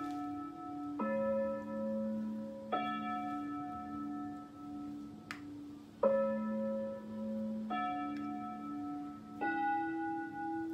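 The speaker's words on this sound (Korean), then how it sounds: "저는 이 종소리가 그렇게 좋던데요." Bells ring during a wind orchestra rehearsal, a slow series of sustained, overlapping tones changing pitch every second or two, moderately soft and heard alone without talk.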